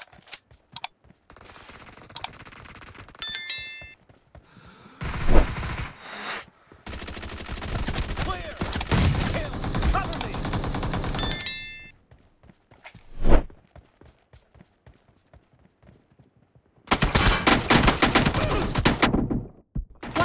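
Gunfire in the mobile battle game PUBG Mobile comes as scattered single shots and long rapid bursts with quiet gaps between them, loud and close.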